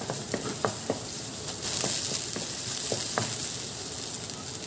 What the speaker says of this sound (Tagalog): Okay, gisahin lang natin siya. Hanggang sa mag-brown yung ating bawang.